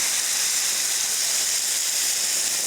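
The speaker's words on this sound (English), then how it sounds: "Tomato puree goes in to a nice hot pan." Tomato puree hits a hot pan and hisses in a steady, bright, close sizzle that holds without a break and has no talking over it.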